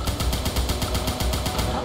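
Continuous rapid gunfire in the War of Gold 2 video game, a dense rattling burst of automatic shots repeating steadily and loudly throughout.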